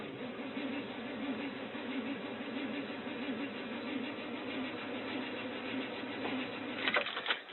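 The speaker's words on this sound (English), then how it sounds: "Cold start. 30 below. Vehicle has been sitting for a few days." An old truck left sitting several days tries a cold start at 30 below, the engine cranking in a steady, labored churning loop that runs nearly throughout, close and continuous, with a brief irregular burst near the end.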